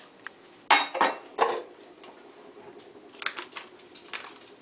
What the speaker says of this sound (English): next you want to combine the butter and the sugar in a mixing bowl